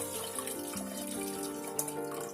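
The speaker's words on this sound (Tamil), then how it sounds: "இந்த பருப்பு தண்ணியை வந்து நம்ம இதுல ஆட் பண்ணிடலாம்" Lentil cooking water pours and splashes steadily into a pot of tomato sambar, a continuous liquid stream with a few small drips, close by and fairly quiet.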